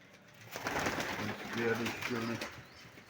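Young pigeons cooing in low, repeated throaty notes at close range, with a couple of soft coos overlapping under brief background chatter.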